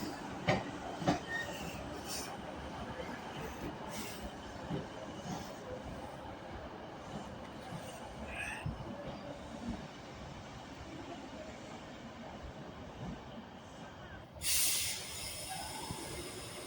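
A Class 390 Pendolino electric passenger train passes at Carlisle on the West Coast Main Line: a steady rumbling wheel roar with rhythmic rail clicks, a few sharp knocks, and a brief hiss near the end.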